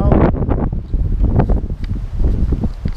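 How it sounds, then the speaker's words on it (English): Outdoor wind buffeting a microphone beside a sailboat, with a steady, loud rumbling roar and gusty bursts running through the whole stretch and no talk. "Sorry about the wind."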